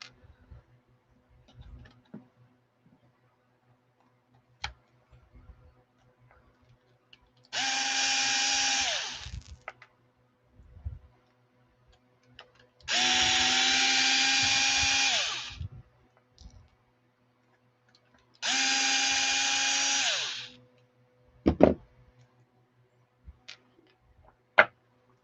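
A power drill drives screws into an Arrma EXB RC car in three separate bursts of whirring, each lasting about two seconds and winding down at the end, with quiet handling clicks and taps in between.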